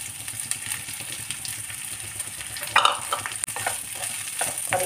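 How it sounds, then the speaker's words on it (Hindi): Spring onion whites, capsicum and onion frying over fairly high heat in a pan for chilli paneer, a steady close sizzle with intermittent stirring scrapes and one brief louder clatter. "शिमला मिर्च और प्याज को भी इसमें डाल करके फ्राई कर लेंगे"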